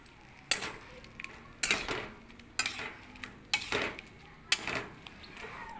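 Spatula strikes and scrapes against a pan while buttered shrimp is stirred, about six sharp clanks at a steady pace, each followed by a brief scraping swirl, close and clear with faint frying underneath.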